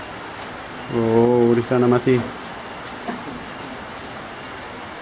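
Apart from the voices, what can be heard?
heavy rain in mountain area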